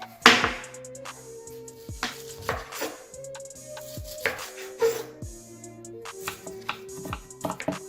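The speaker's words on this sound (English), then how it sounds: "So first get your half onion and chop it." Half an onion is chopped with a knife on a board, irregular sharp taps and clacks spaced through the clip, some quick bursts, close and clear with faint kitchen clinks between.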